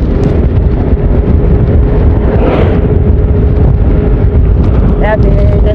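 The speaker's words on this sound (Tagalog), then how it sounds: "napakalakas ng hangin" Strong wind buffets the microphone at a roadside cycling race, a loud, constant low roar that swamps everything, with a voice faintly audible through it.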